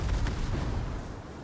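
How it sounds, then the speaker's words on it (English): A torpedo strikes the Izumo battleship in World of Warships, a heavy rumbling naval boom that swells at once and slowly fades over a low, steady battle roar. "we even got a torpedo on the Izumo"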